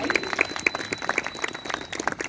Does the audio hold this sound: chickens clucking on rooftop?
no